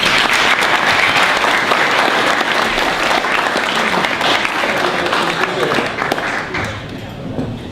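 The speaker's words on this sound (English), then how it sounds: "give him a warm round of applause" Warm applause fills the room at a San Diego cyber competition awards presentation as a speaker is welcomed to the podium, dense and sustained clapping that tapers off toward the end.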